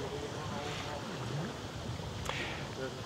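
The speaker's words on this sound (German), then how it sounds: "So, Wind lässt etwas nach." Steady wind rushes across the open deck of the AIDAprima cruise ship as it sails away from Hamburg, a continuous broadband roar with faint voices and a brief whistle-like tone partway through.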